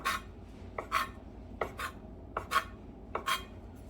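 Knife slicing imitation crab sticks into roughly 1 cm pieces, a series of about eight brief crisp cuts in an uneven rhythm, close and fairly quiet, with no talking.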